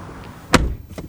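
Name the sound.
used Nissan Frontier pickup truck door closing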